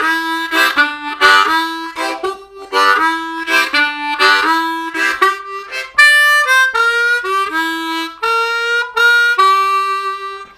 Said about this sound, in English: I also like to work on getting comfortable changing between single clean notes and chords